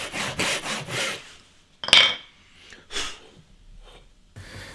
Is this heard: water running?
no